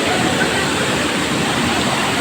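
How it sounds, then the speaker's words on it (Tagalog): Strong stream water rushes loudly and continuously close by as someone wades across it, a dense unbroken roar with no clear speech. "Tatawid muna tayo dito sa tubig na to. Ingat-ingat lang, baka madulas tayo at malakas yung tubig."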